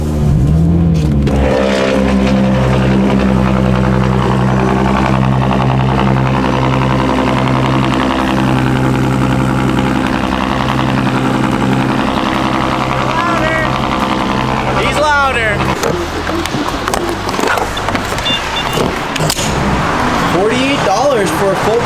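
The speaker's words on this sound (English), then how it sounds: "A little bit of a cold start." A tuned car's engine cold-starts and settles into a loud, steady idle, droning close by throughout while someone talks over it.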